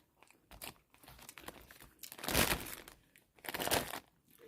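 Soft milk bread being chewed and bitten up close, with quiet, uneven mouth sounds and a few louder bites, no talking.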